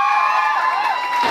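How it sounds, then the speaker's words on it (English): Lively crowd cheering and applauding for the principal at a girls' senior grammar school seminar, a short, dense burst of loud whoops and shouts. "Round of applause, y'all"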